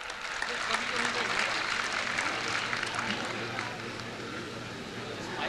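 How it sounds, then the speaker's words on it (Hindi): Applause from the crowd at a Hindi comic poetry gathering, a continuous broad wash of clapping, moderately loud and fairly even, with a faint low hum beneath. "अब बात अच्छी लगी है तो जोरदार तालियां बजाइए आप।"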